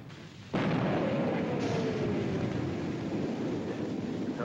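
A big gun fires in a wartime combat scene: one sudden, heavy blast that rolls into a long, roaring rumble slowly fading under wind-like noise.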